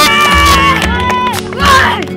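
A crowd cheers and whoops for the red team at an outdoor adventure game, with children shouting, loud and sustained, peaking again near the end.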